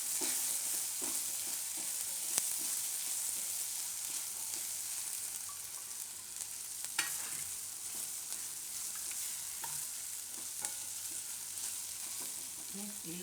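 Cashews hit hot oil for a potato curry, kaju bateta nu shaak, setting off a dense, even sizzle with occasional stirring taps against the pan, close and steady without talk.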